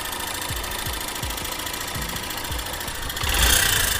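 An old motorcycle's worn engine idles with a faulty, regular knocking tick repeating about twice a second, close and steady, then swells briefly louder near the end.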